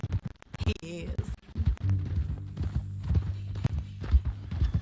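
Horse hooves clip-clop in a western video game, a quick uneven run of hoofbeats mixed with voices talking and low background music.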